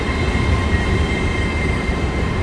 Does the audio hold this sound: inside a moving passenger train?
yes